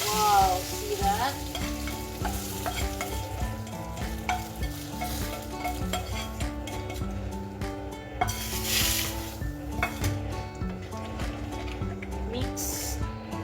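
Lentil curry (daal bhuna) stirred in a pan, a steady sizzle and frying hiss running throughout with repeated scraping stir strokes, close and fairly loud; music plays over the cooking sounds.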